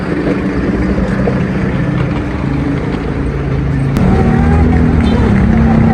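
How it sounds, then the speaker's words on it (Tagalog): Heavy traffic on EDSA heard from inside a bus: a steady, loud rumble of engines and road noise with a faint murmur of voices underneath, swelling slightly near the end. "Sobrang traffic sa EDSA."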